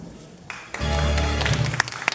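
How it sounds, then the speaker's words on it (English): An audience at a press conference applauds the cast of A Christmas Carol, a dense wash of clapping that swells after a brief pause and holds steady, with a few sharper claps standing out. "Let us give them a round of applause."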